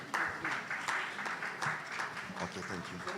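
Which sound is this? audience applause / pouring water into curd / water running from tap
audience applause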